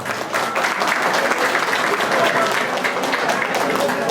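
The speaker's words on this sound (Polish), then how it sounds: "prosimy o brawa" An audience at a regional homing-pigeon show awards ceremony claps in a thick, steady round, close and loud, with faint voices beneath the applause.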